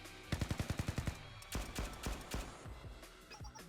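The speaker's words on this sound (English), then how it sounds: "That? A gunshot?" Gunfire from Hoshino's gun in the Blue Archive video game: a rapid burst of sharp shots followed by further irregular bangs and clatter, moderately loud within game sound effects.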